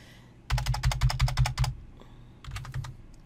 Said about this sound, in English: Let's backspace and make that 500 by 500